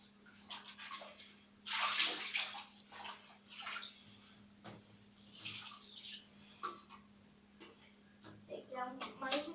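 Water splashes onto a plastic fan guard while it is washed with detergent, producing bursts of wet spattering and trickling, loudest around two seconds, with quieter dribbles and drips continuing afterward.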